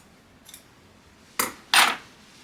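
Scissors trimming excess fabric from a wedding dress lining, one faint snip followed by two sharper close cuts in quick succession.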